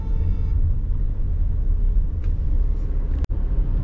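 Tata Nexon facelift driving in city traffic, a steady low engine and road rumble heard from inside the cabin, with a brief sharp click near the end.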